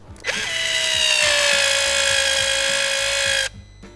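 Dnipro-M DSG-200 cordless sealant gun motor set to fourth speed, a steady high electric whine that starts abruptly, runs evenly for about three seconds with a slight dip in pitch, then cuts off sharply.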